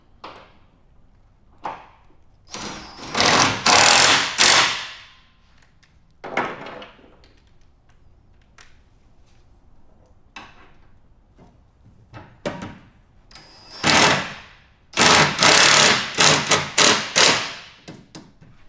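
Power tool, likely an impact driver, tightening bolts on a Leitner Active Cargo System rack on a Tacoma pickup, in several short loud bursts separated by quiet gaps with small clicks and taps.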